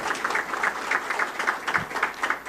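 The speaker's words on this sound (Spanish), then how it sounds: "Yo quiero un aplauso" Crowd applause fills the space, a steady wash of many hands clapping at moderate loudness with rhythmic swells, no clear speech over it.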